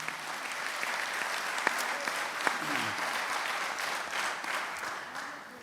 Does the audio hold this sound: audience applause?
yes